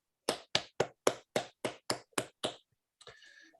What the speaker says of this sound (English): I'd like everybody to join me in a round of applause